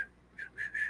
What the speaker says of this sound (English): When you turn their channel on, it whistles.